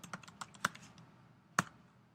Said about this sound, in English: So I'll go ahead and start typing countif.